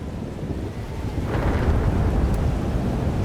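Stormy weather in the video game Life Is Strange: Double Exposure: a deep rolling thunder rumble swells under steady gusting wind, building louder midway and holding as a dark, continuous roar.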